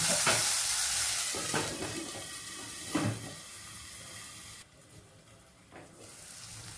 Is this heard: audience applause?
no